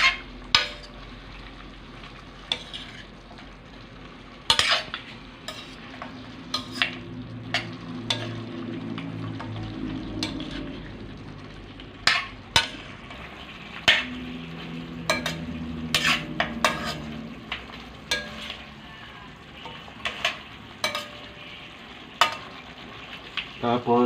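Beef pares being stirred in a frying pan, a steady sizzle with repeated sharp scrapes and clinks of the spoon against the pan, close and fairly quiet, no talking.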